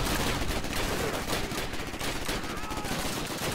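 Heavy gunfire in the World War II shooter game Call of Duty: United Offensive, loud nonstop rapid-fire bursts from several weapons at once, blended with battlefield noise throughout, with no talk.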